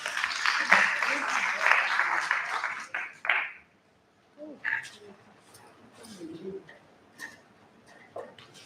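An audience claps through a burst of applause after a talk at a stakeholder meeting on the plantain seed value chain. The clapping then fades into scattered voices and room noise.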